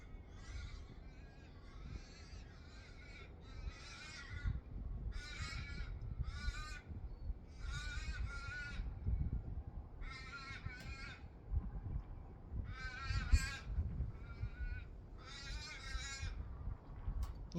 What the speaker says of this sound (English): You hearing the crows?